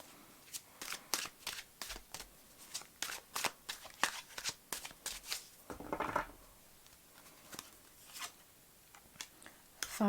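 Tarot cards are shuffled by hand in repeated quick riffling bursts, close and crisp, with brief pauses between the runs and no talking.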